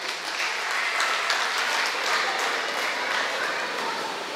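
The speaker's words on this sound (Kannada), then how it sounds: "ನೀವೆಲ್ಲರೂ ಸೇರಿಕೊಂಡವರಿಗೆ ಒಂದು ಗಟ್ಟಿಯಾದ ಚಪ್ಪಾಳೆಯನ್ನು ತಟ್ಟೋಣ." An audience at a Rotary Club Puttur Yuva officers' installation ceremony applauds the club's past presidents, a dense, steady wash of many hands clapping throughout.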